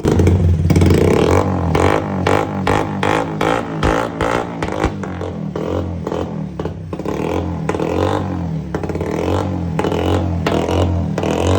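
Bajaj three-wheeler engine starting and running close by, a steady loud putter with irregular revving pulses and some clatter throughout, no talking.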